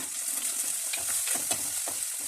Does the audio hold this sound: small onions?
yes